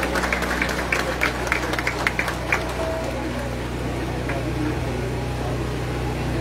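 A crowd claps for the procession of San Nicolás de Tolentino, a scattered burst of clapping that tapers off within a few seconds over a steady low rumble.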